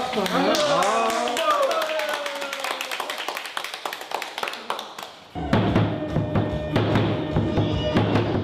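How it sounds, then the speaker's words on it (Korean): A group of participants at a pumba performers' gathering claps, first scattered, crisp claps mixed with speech and sliding voices, then a fuller, steady round of clapping over background music. "오늘 이렇게 준비했으니까 박수 한번 쳐줍시다."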